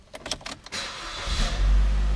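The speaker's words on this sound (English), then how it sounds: "Car fires right up." A Buick Encore's turbocharged Ecotec engine cranks with a few quick clicks and whirs, then catches and settles into a steady idle, heard up close in a quiet setting.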